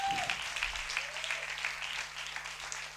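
Applause from a television studio audience, moderately loud and steady throughout, with a brief voice and a faint tone near the start.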